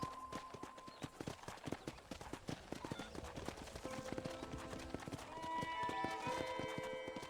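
Rapid clip-clop of horse hooves from riding in the video game Red Dead Redemption, a steady close rhythm that grows denser and louder near the end, with faint game music underneath.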